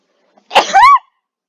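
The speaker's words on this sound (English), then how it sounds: "I'm gonna sneeze now." A single loud, close human sneeze: a quick breathy intake followed by a sharp explosive burst with a voiced tail, alone in an otherwise silent room.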